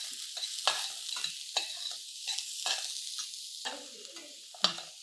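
Chopped onion pieces, with garlic already in, frying in a pan with steady background sizzle, punctuated by sharp clinks and scrapes of stirring at irregular intervals, no speech.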